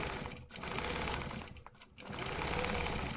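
A sewing machine runs fast and close while quilting stitches around a square, giving a loud, continuous buzzing hum with two brief dips where the stitching slows, with no talk over it.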